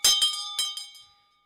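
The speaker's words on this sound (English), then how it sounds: "Let's ring the bell and do roll call." A small hand bell rung for a morning roll call, four quick clear strikes in about a second with a ringing tail that fades out, close and alone.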